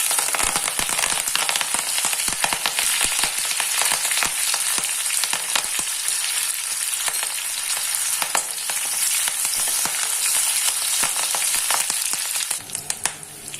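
Green chilies, ginger and curry leaves fry in hot oil in a pan, a loud, dense, steady sizzle and crackle with popping bursts that go on throughout and ease off slightly at the end.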